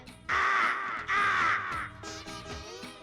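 A voice imitates a crow, giving two loud, nasal caws close up, followed by a lower, softer call.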